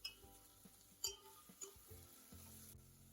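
Vegetables with salt are stirred in a cooking pan, giving soft sizzling under a series of scraping, clinking utensil strokes at an irregular pace, fairly quiet and close.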